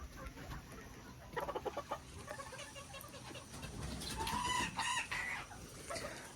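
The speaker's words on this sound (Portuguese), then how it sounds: "Um galinho fumaça." A small smoke-colored Mini Garnisé bantam rooster and other fowl on a farm, with faint crowing and clucking at a distance over steady outdoor background noise.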